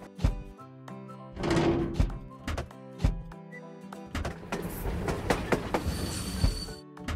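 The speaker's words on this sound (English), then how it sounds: "The train has arrived." A train arriving in a children's animated construction scene rumbles and clacks with heavy rhythmic thunks, then a busier stretch of rattling and a hissing release near the end, loud and close with no speech.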